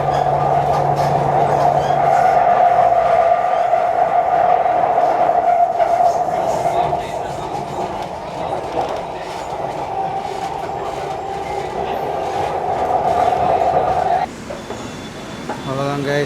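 Chennai metro train ride from Anna Nagar Tower to Teynampet, a loud steady rumble and whine of the moving carriage with rail clatter, easing off toward the end with a brief squeal, faint voices underneath.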